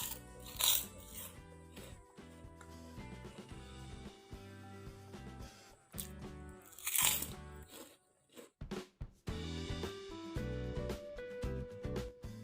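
Crispy puffed mackerel kerupuk atom crackers are bitten and chewed close to the mic, giving sharp loud crunches in bursts, with quieter crackling chews between them and no talking.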